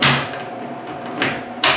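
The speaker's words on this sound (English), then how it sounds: "Finally, I screw the other part of the hinge in place and put the door." A wooden kitchen cupboard door is set onto its hinge at a workbench, giving two short knocks near the end over a steady background hiss.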